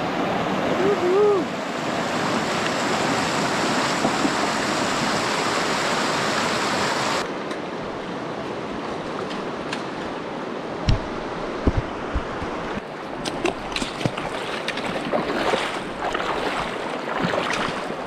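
Steady rushing river water from wading through The Narrows in Zion, a loud broadband wash for the first seven seconds, then a quieter flow broken by splashes and sloshing footsteps in the shallow current.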